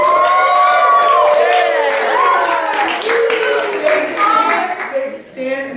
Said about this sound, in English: a bigger round of applause featuring hoots and hollers for our film